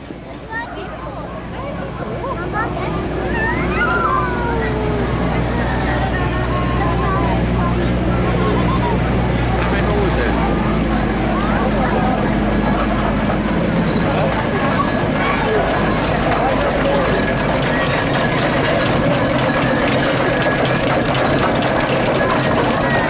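An S4 shaft drive steam lorry, forerunner of the modern diesel lorry, runs with a loud continuous rumble and chuffing mechanical clatter close by, steady throughout with outdoor rally background noise.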